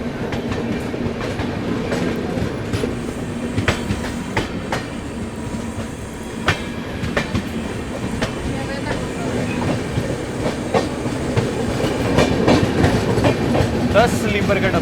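Express train passing on Indian Railways at Ghaziabad, a Lucknow Tejas overtaking the Poorvottar Sampark Kranti Express, with steady loud rumble and rhythmic clickety-clack of wheels over rail joints throughout, building slightly toward the end.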